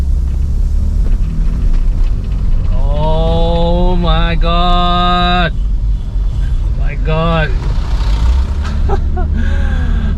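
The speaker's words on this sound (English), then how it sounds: "the engine it still purrs along smoothly" A BMW 628 CSi engine runs smoothly while driving, a low steady hum under road and wind noise, with someone talking excitedly over it in bursts.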